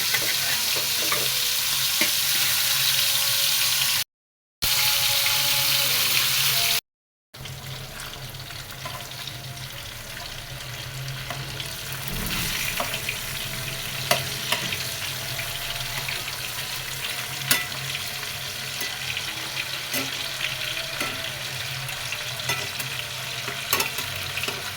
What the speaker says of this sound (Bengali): মাছটা একটু ভেজে নিই